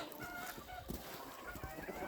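Bantam chickens and roosters in a coop, faint clucking and murmuring calls blending into a steady background hum with no clear talking.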